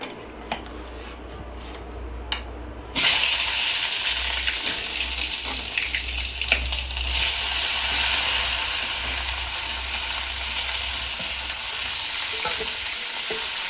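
Marinated chicken hits well-heated oil in a home kitchen pan, bursting into a loud, steady sizzle that stays broad and continuous after a quiet start with a few small clinks.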